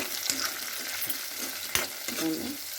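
Chopped onions and capsicum sizzle in a hot pan with a steady crackling hiss, broken by a few scraping stirs and one sharp clack of a utensil, close and alone without talk.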